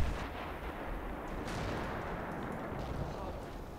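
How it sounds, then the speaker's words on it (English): Artillery fire rumbles through a battle in the Men of War: Assault Squad 2 video game, a dense, continuous roar of booms and gunfire with a voice speaking over it. "Okay, they got huge artillery now."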